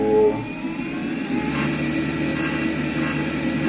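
Servo motor on a Taig mill spindle (Consew CSM1000) running up in speed, a steady whirring hum with a rising tone, fairly quiet and continuous, with no talk.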